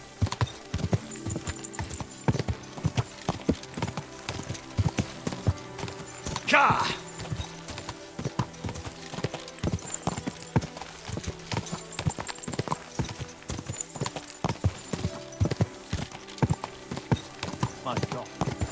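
Steady horse hooves clip-clop in a rhythmic walk in the video game Kingdom Come: Deliverance 2, with a brief whinny and a voice speaking over the footsteps.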